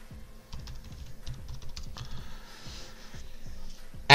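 Steady tapping on a computer keyboard, a run of close, crisp keystrokes in quick uneven rhythm with short pauses between bursts, no voices over it.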